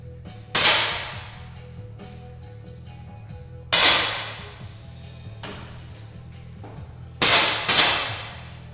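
Sharp rifle shots ring out at spaced intervals in a shooting competition final, three single cracks and a quick double, each decaying fast over a steady low hum.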